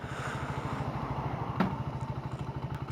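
A motorcycle engine idles close by with a steady, lumpy low pulse, one faint click partway through; no talk.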